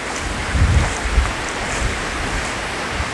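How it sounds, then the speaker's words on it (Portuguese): Ocean waves break on a shore, a broad rumbling wash with a few low swells rising and falling, heavy wind buffeting the microphone, fairly loud and close, no voices. "como nós estamos vendo aqui as ondas"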